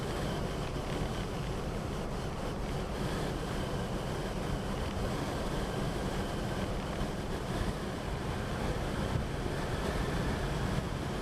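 Steady, loud wind roar rushes past a car driving at around 45 to 50 mph with a homemade PVC roof rack on top, a dense continuous noise with no talking.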